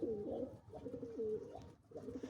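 Pigeons or doves cooing in a loft with a rooftop tower: soft repeated throaty coos in a rolling rhythm, quiet and fairly close, with no talking.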